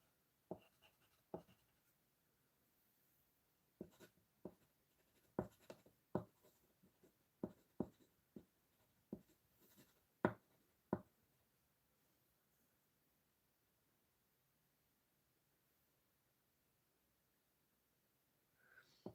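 Pitt pastel pencil, orange, scratching over a pastel artwork in short, crisp, irregular strokes, quiet and close, clustered over about eleven seconds and then a long pause before one last stroke.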